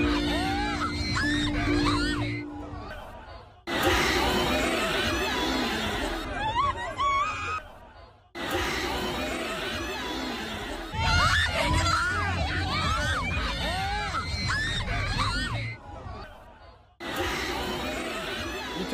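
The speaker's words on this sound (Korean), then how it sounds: "위험을 감지한 듯 시민들이 소리를 지르기 시작하고" A dense crowd packed into a narrow alley during a deadly crush screams and shouts in panic, loud overlapping voices in long bursts broken by brief silent cuts.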